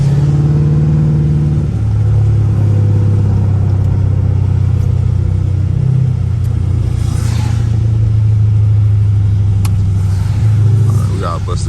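A loud catless Hemi car engine rumbles steadily near the listener, its exhaust revving with sharp crackling pops, while a person speaks over it.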